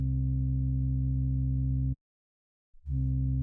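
A Surge XT synth bass patch with a fully closed filter that opens quickly on a fast attack. A sustained low buzzing tone cuts off abruptly, pauses in silence, then returns with a quick swelling onset.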